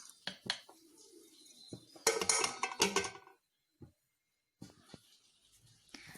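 Metal pot of crab curry being stirred and then covered with another vessel, heard as close clanks and scrapes of utensil on metal, a dense clattering stretch in the middle, then brief knocks and quiet gaps.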